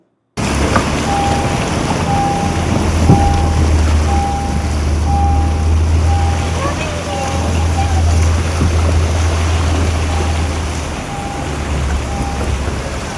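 Heavy rain drums down while floodwater rushes across a road around a stranded car, a loud, constant broadband wash. A thin electronic beep repeats at a steady rhythm beneath it, and a deep low rumble holds for most of the time.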